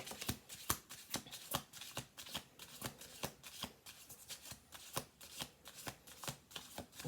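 Tarot cards being shuffled by hand, a rapid run of crisp riffling bursts repeating in an even rhythm, close and clear with no talk over it.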